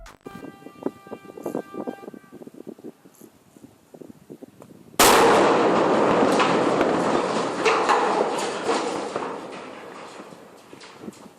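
Explosives detonated at the base of a turbine for demolition burst suddenly into a loud, broadband blast that rolls on as a long, slowly fading roar of the collapse, after several seconds of quieter ambient sound.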